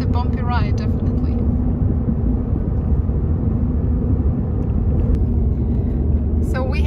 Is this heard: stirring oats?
no